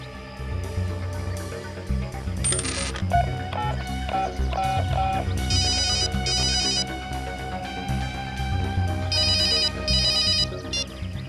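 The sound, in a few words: phone ringtone after dialing number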